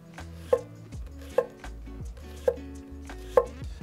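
A bunka Japanese kitchen knife slices across a cutting board with a sliding stroke, producing four evenly spaced, crisp knocks against the board over a low background hum, with no talking.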